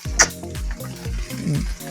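Vendace fillets fry in a hot pan with a soft, steady sizzle and small crackles after being flipped, close up and with no talking.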